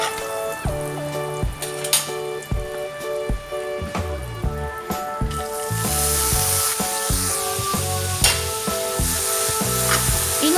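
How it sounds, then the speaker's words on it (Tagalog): Bean sprouts sizzle in melted butter in a pan, a steady frying crackle close to the microphone, with music playing over the whole stretch and no talk. "I-melt lang natin tong butter, then pwede na natin ilagay ang toge."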